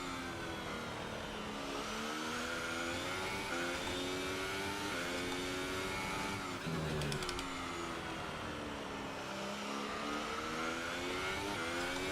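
Formula 1 race car engine in the PS4 game F1 2018 during practice at the Spanish round, a loud continuous high-pitched whine rising and falling through gear changes, close and steady for the whole stretch with no talking.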